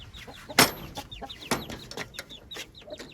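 Aseel and Rhode Island Red chickens cluck and call at close range, a string of short chirpy notes with a few louder sharp squawks near the start and middle, no talking.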